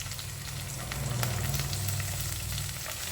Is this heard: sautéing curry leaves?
yes